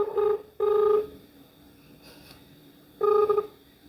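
A phone line ringing out unanswered on a call to a car rental business, two long electronic ring tones then a pause before a third, clear and close.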